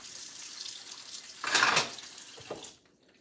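Tap water runs into a sink while pork is washed before roasting. There is a steady splashing stream with a louder gush midway, then a brief trickle before the water stops.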